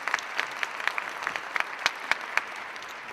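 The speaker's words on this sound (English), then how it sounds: "Let's give Sam a big round of applause." Scattered applause for a university marketing coordinator at a mayor's VIP event: a modest number of people clapping, individual sharp claps standing out in an uneven rhythm over a thin background patter.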